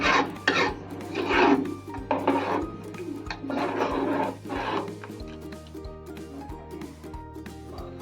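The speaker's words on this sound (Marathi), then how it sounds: "एकदा ढवळून घेते म्हणजे कढी येईल त्याला." A spoon stirs tomato saar in a pot, scraping and knocking against the metal in a few close passes, with a steady background hum.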